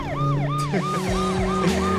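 An ambulance siren wails in a car crash video game. It is a fast, regular rising-and-falling electronic sweep, repeated about six times over an engine hum, fairly clear but not loud.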